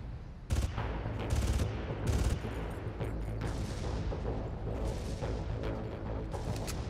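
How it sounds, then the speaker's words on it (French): Short bursts of automatic gunfire rattle out in the shooter Far Cry, loud clustered volleys early on followed by scattered, more distant shots and echoes. "je vois que l'autre il se prend des rafales"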